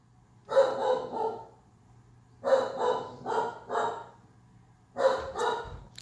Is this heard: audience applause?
no